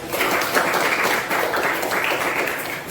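Classroom participants in a coaching session clap together in steady, dense applause that fills the whole moment at close range, with no talking over it.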